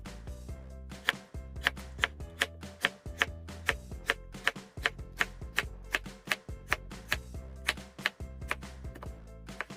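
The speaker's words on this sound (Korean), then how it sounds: "펴주신 물을 얇게 채 썰어주세요" A kitchen knife julienning radish into thin strips on a cutting board, with quick, sharp, evenly spaced taps in a steady rhythm, close and clear, with brief pauses between runs of cuts.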